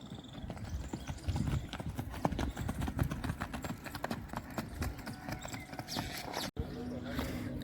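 Rhythmic hoofbeats of a mare being ridden clip-clop steadily on a hard surface, close by, with faint background voices and a brief dropout near the end.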